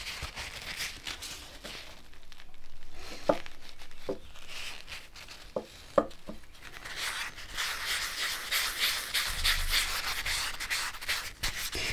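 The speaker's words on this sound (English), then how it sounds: "I have some sesame oil here that I'm gonna oil it with" Sesame oil is rubbed into a wooden horsehair brush, making soft rubbing and scuffing sounds with a few sharp little knocks in the middle, close and fairly quiet, with no voices.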